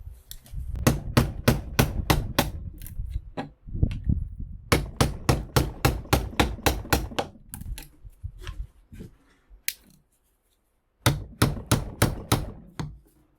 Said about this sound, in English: But it's just a matter of hammering that off there. But we want to get the copper out of this. Let's try the chisel method.